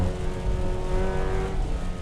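A Mazda race car in Assetto Corsa EVO, at Brands Hatch, revs hard with a loud, continuous buzzing engine note that rises and falls, close and alone.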